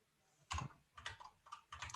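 Typing on a computer keyboard, several short clustered bursts of clicking keys with brief pauses between them, close and quiet with no voices.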